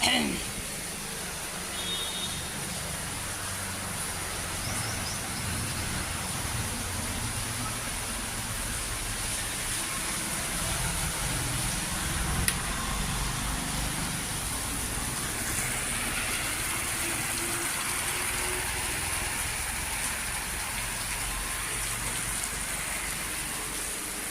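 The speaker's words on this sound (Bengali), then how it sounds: "বৃষ্টির শব্দ কারে কয় বাপরে" Heavy rain falls steadily outdoors at night, a dense continuous hiss of drops hitting surfaces that stays even and loud throughout, with a voice speaking faintly in places.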